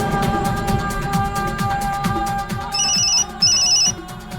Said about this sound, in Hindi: मोम का फोन है।